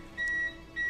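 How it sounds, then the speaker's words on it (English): A surge protector beeps after a power outage, two faint, steady high-pitched electronic tones in quick succession, each holding for about a third of a second over quiet room hum. "It's probably the surge protector that's beeping at me."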